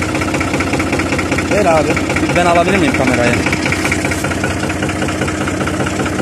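A New Holland 55-56 diesel tractor engine idles loudly and steadily close by, its low chugging constant throughout while people talk over it.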